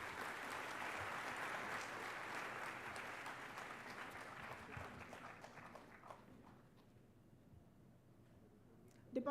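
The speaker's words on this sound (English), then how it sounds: "A big round of applause for them" Sustained applause from a convocation audience honouring PhD graduates, a dense steady wash of many hands clapping that gradually thins and fades over the last few seconds.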